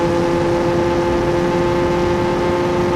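Steady, loud drone of an Yamaha R6 motorcycle engine with an aftermarket loud exhaust, holding a constant pitch with strong harmonic tones and no talk.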